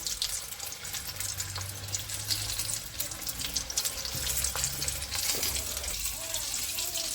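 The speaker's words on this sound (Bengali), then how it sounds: "এইভাবে এক এক করে পেপসি চিকেন ভেজে নেবো" Pepsi-marinated chicken pieces frying one by one in hot oil for a KFC-style recipe, a steady close hiss and crackle running throughout with low rumbling underneath.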